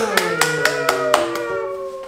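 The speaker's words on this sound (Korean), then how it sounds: "박수." A run of about six evenly spaced hand claps keeps a brisk beat over a sung children's finger family tune, then the clapping stops while the melody continues.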